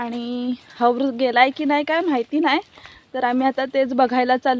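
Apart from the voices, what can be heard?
No distinct noise like a dog, phone or traffic.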